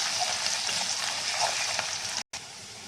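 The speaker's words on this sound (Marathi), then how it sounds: "चांगली तडतडू द्यायची आहेत कढीपत्त्याचे पानं" Curry leaves crackle and sizzle in hot oil with browning onions for a spicy potato bhaji. A steady close frying hiss runs throughout, cut by a brief dropout near the end. No voices.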